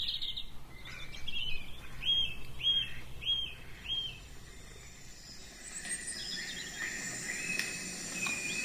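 In the Costa Rica rainforest, insects trill and buzz steadily. Birds repeat a series of high, clear whistles, and other faint calls and chirps layer through the ambience.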